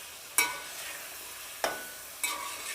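Mutton roasting over raised flame crackles quietly in a pan, punctuated by three distinct sharp stirring scrapes spaced about a second apart, each followed by a brief burst of sizzle; no speech.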